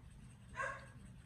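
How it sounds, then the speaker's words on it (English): A single dog bark or yip sounds at a distance, short and muffled, in an indoor room with a low steady hum. "I apologize for the dogs barking"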